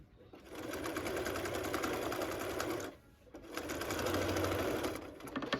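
A sewing machine runs in two fast stitching bursts, separated by a brief pause, while stitching a St Patrick's Day fabric coaster; close, steady whirring buzz.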